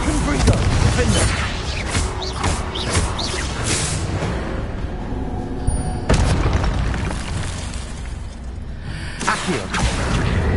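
A Confringo blasting spell explosion in the Hogwarts Legacy video game, with loud booming bursts and whooshes recurring across the clip, set among game sounds and some speech.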